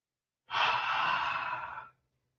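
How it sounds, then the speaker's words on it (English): A single slow, deep breath out through an open mouth as a deliberate breathing exercise, a steady airy exhale lasting about a second and a half, close and alone with no talk. "Deep, slow breath, deliberate deep breath, slow for a purpose."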